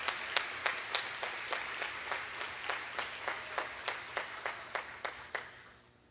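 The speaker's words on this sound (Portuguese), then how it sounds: "Vamos aplaudir a palavra de Deus." A church congregation claps in a steady, even rhythm during a Catholic Mass, about three claps per second, clear and fairly close, with no talking over it.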